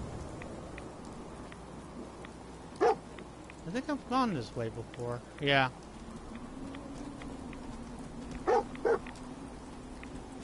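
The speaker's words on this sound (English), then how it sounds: "Dogmeat, what the fuck are you barking at?" Dogmeat the dog in the video game Fallout 4 barking in short bursts, a couple of barks amid a yelping run, over soft rain, with someone talking briefly.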